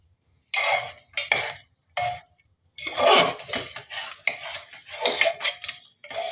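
A cooking pot of boiled dal taken off the stove, a series of close metallic clanks, scrapes and knocks of pot and utensils in short bursts separated by brief silences, no talking.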